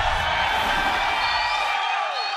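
Press conference crowd for a UFC 261 event cheering and whooping in a steady, loud wash of voices, with whistles and shouts rising over the din and easing off toward the end.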